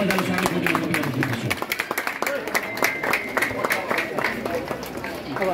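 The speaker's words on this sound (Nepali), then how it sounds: "ताली बजाएर स्वागत गर्न चाहन्छु" Crowd clapping to welcome guests at a volleyball semi-final match in Darjeeling, a dense, steady patter of many hands close by with murmuring voices mixed in.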